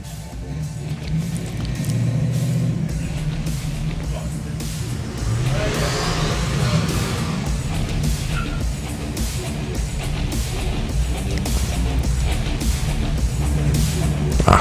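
A pair of hot rod cars race down a drag strip at a hot rod drags event, giving a steady, loud engine roar with a building surge of power midway through, while an announcer talks over it.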